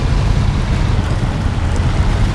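A tractor in the SnowRunner video game drives steadily across rough terrain, its engine a constant low, deep rumble with a wind-like broadband hiss, loud and unbroken throughout.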